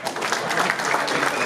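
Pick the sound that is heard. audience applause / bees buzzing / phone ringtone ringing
audience applause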